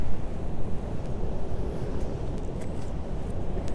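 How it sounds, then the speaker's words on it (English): Strong wind gusting across a vegetable garden in November, buffeting the microphone with a steady, loud, low roar that barely lets up. "I am heading in because the wind has really picked up again"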